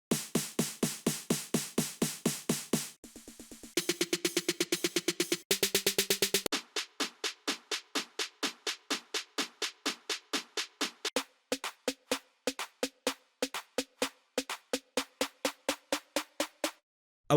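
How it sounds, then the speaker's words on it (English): Processed drum fills from a Confession-style bass house sample pack play as rapid, evenly spaced hits, the patterns changing every few seconds and tightening into quick rolls, with no voices. "My favorite samples in the spec are actually the fills"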